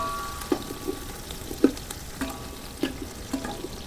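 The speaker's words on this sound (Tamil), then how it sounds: "வெங்காயம் போட்டு நல்லா வதக்கணும்பா" Onions sautéing in a pan with cinnamon, cloves and cardamom for chicken biryani: a soft, steady background sizzle broken by several distinct stirring clinks and scrapes at intervals, with no talking.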